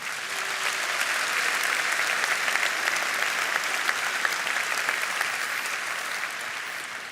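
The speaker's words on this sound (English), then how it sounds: "feel free to use those hands to give yourselves a well-deserved round of applause" Convention audience at a Rotary International gathering breaks into a long round of applause, a thick, even wash of many hands clapping that holds steady and fills the room without pause.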